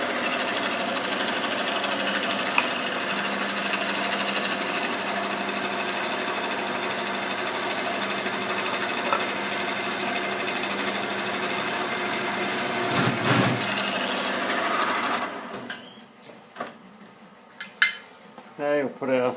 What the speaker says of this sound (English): So we'll get a drill bit in and start drilling.